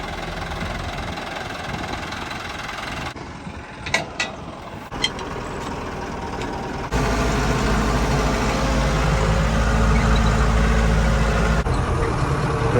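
A 7710 tractor engine idles steadily nearby on a farm, with a low, continuous rumble. Partway through, the engine note grows louder and heavier, and a few brief metallic knocks sound near the start.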